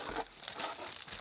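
Thin shoe box tissue paper crinkles and rustles up close as it is handled, with a steady stream of crackling through the whole short stretch and no talk over it.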